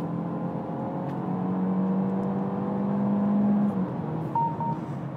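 Interior drone of a Peugeot 508 GT on the road, a steady low engine hum and tyre whir rising gently as it accelerates, with a couple of brief tonal beeps near the end.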